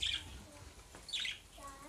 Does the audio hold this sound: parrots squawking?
yes